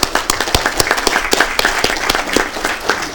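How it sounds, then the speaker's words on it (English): A crowd at a city council meeting applauds warmly and continuously, many hands clapping together in a dense, loud, sustained burst with no voices over it. "Big round of applause, please."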